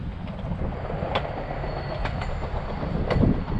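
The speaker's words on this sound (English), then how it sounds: "Just had a train roll through" A train rolls past by a lake during spring bass fishing, a steady broad rumble with faint clickety-clack rising slightly toward the end, no voices.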